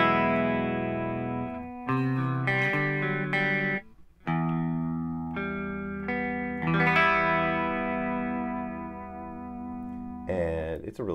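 Electric guitar played through a Line 6 Helix pitch shifter rings out in sustained, shimmering notes and short chord phrases with doubled, shifted pitches, clean and close, with brief gaps between phrases and no talking.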